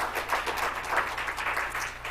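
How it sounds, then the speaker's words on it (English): Audience applause at a community update meeting, a brief burst of fairly close clapping with a pulsing, uneven texture and a low hum underneath. "Please give them a round of applause."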